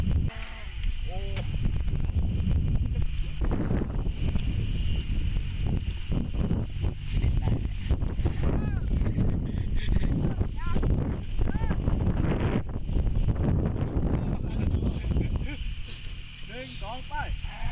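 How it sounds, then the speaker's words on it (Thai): Strong wind buffets the microphone near a small aircraft on the ground, a loud steady roar with gusty fluctuations throughout, with a brief engine or mechanical tone at times. "ลมแรงมากนะฮะ"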